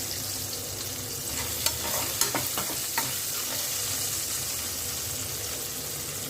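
Garlic sautés in a pan with a soft continuous sizzle, a few sharp spatula taps and scrapes cutting through near the start.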